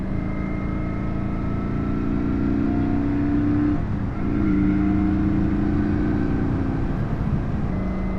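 A Kawasaki VN900 Custom cruiser motorcycle is ridden along a tree-lined road, its engine droning steadily and loudly close up, with one brief dip in pitch around a gear change before the drone resumes, no talking.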